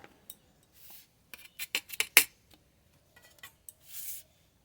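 Metal serving utensils clink and scrape against cooking pots while mirchi chicken and fenugreek greens fried with eggplant are dished out, a run of sharp close clatters and taps with a few soft rubbing pauses.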